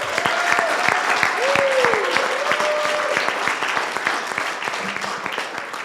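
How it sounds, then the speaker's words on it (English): Audience applause for four student teams at a California demo day, steady dense clapping throughout with a voice speaking over it near the start. "One final round of applause for all 4 of our teams, please."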